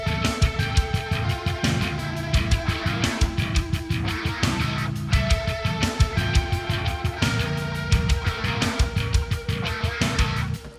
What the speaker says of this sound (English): let's take a listen to everything, the drums, the bass, and these new guitar parts